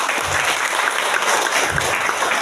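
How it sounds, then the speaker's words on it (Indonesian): An audience claps loudly and steadily at a state senior high school's fifth anniversary in Tanimbar Islands, a thick continuous wash of applause with no speech heard. "Berikan tepuk tangan."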